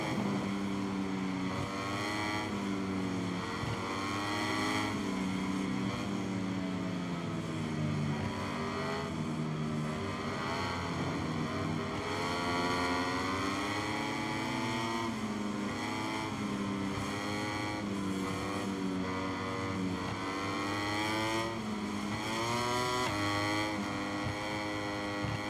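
Racing motorcycle engines in the video game MotoGP 23 during the German Grand Prix, whining and rising and falling in pitch as the bikes shift through gears, loud and continuous without any talk.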